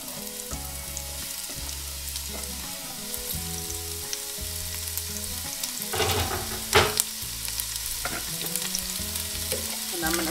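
Onions sizzle and fry steadily in hot beef tallow, a continuous crackling hiss with a few louder stirring scrapes and clatters near the end, close and prominent with no talking.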